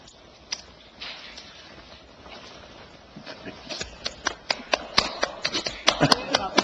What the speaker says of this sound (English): Yeah, we're clapping.